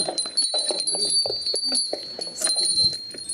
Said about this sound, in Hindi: तो ये है आप लोगों की दिमाग की घंटी। इसका काम है रियलिटी का अलार्म बजाना।